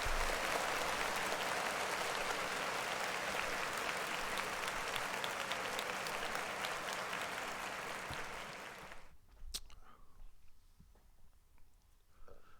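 Crowd applause for a rapper, a loud sustained clapping roar that fades out after about eight seconds, leaving faint room noise and a few small clicks.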